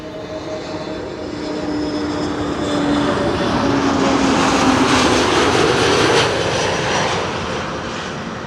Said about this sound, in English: Another A321neo arriving from Granada.